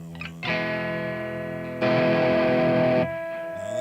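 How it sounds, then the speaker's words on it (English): An electric guitar run through an MXR Distortion III pedal, a tube-screamer-like overdrive, into an amp. Thick, mid-heavy distorted chords ring out alone, with one sustained strum and then a louder, brighter burst before it fades. "Now that's with the MXR Distortion 3, which is kind of like a tube screamer."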